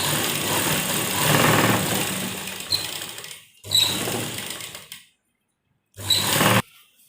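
Sewing machine stitching along a folded blouse sleeve hem, running in a long whirring burst, then shorter runs separated by brief stops and a moment of silence, each start marked by a small mechanical click.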